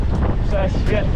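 Wind roars steadily across the microphone throughout while riding a gravel bike fast with a tailwind, buffeting and loud, while a voice briefly speaks over it.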